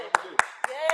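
Four evenly spaced hand claps ring out in quick succession to celebrate a viewer's silver bar purchase, while a person talks over them.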